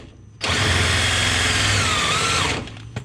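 A power tool whirs loudly and steadily for about two seconds as it spins a loose bolt on a Honda Civic subframe, starting abruptly and cutting off, in a quiet garage.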